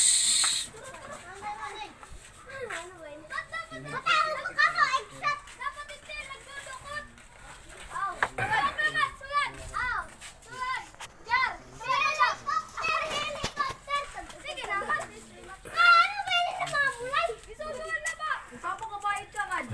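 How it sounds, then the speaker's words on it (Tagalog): Children play noisily close by, chattering and squealing in lively bursts throughout, in a workshop where a Suzuki K6A engine is being rebuilt. "Pasensya na kayo, maingay yung bata rito."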